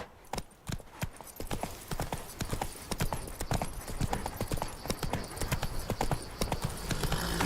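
Horse hooves clip-clop steadily in The Witcher 3 as the horse trots along, the rhythmic beats close and fairly loud throughout, with brief game speech mixed in.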